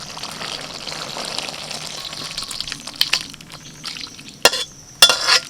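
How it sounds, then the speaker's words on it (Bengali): A mixed vegetable curry with ghee and sugar is stirred in a pan, with a soft simmering sizzle under scraping strokes and a few sharper utensil clatters toward the end. "রান্নাটা হয়ে গেছে একটু নাড়াচাড়া করে দিচ্ছি ভালো করে যাতে চিনিটা গলে যায়"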